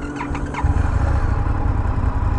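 A 2022 Indian FTR R Carbon motorcycle with a 1200 engine cranks and fires, then settles into a close, low, pulsing rumble at idle, with no talking over it.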